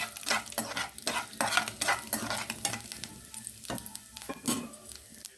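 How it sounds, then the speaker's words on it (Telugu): Mustard seeds and dry red chillies spluttering in hot oil for a simple egg curry, with sharp repeated crackles and pops bursting over a sizzling bed, close and lively, alongside clinks of a spoon against the pan. "చూడండి ఇలా చుట్టుపట్లాడుతుంది కదా"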